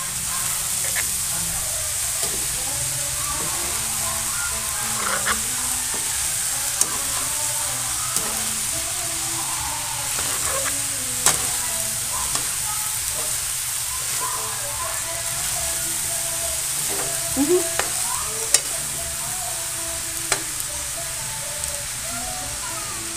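Spicy chicken with vegetables fries in a pan and is stirred, producing a continuous close sizzle with intermittent scraping clicks over a long stretch.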